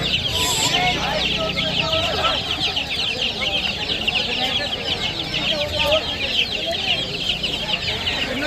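Australian chickens cluck continuously in a dense, busy chorus at Galiff Street pet market in Kolkata, with occasional voices from the crowded market in the background.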